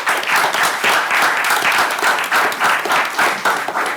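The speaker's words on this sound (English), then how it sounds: "So let's give them one more round of applause." Steady, loud applause fills a school ceremony honouring students for academic and extracurricular achievement: dense clapping from a large audience, continuous from start to finish with no talking.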